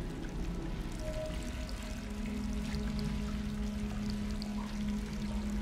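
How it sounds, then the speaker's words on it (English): Steady running water pouring in the video game Stray, a continuous close trickling stream with a low hum beneath it. "I hear water running."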